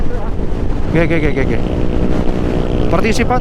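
Motorboat engine rumbling steadily during an endurance challenge, heard under wind noise on the microphone and people talking nearby.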